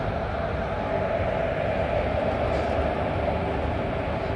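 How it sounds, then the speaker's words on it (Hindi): Rail coaches being shunted by an old locomotive beside the Dehradun Express, giving a steady, loud rumble of rolling stock that carries on without a break. "परफेक्ट कोऑर्डिनेशन के साथ यहाँ पे शंटिंग प्रॉपर की जा रही है कोचेस की"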